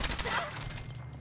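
Rapid gunfire sprays in the video game ModBox, a dense, loud burst of shots that fades out within about a second.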